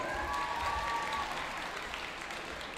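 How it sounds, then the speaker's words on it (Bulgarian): An audience applauds a couple of young dancers at a dance competition, steady, dense clapping filling the room throughout, with a faint tonal whistle early on. "Аплодисменти за тях."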